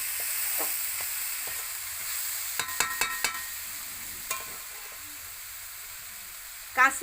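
Grated coconut filling with cardamom powder fries in a pan for sweet stuffed pitha, a soft steady sizzle under a quick run of scraping clicks from the stirring spoon, then one sharper clatter at the end.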